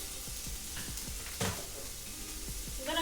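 Chicken frying in an oiled pan for a quesadilla, giving a steady soft sizzle with scattered pops and crackles, fairly quiet and heard alone.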